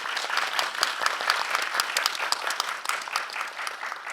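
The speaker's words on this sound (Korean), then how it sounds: "여러분 박수 한번 부탁드립니다." Cinema audience at a film screening and talk applauding, many distinct hand claps forming a lively, sustained burst at moderate loudness, with a faint voice or two underneath.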